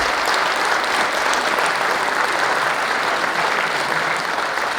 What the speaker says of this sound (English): Let's give a big round of applause for all our candidates